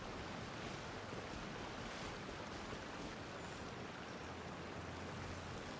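A steady, dense rush of falling water from a waterfall in the video game Genshin Impact, continuous and fairly close, with no voices over it.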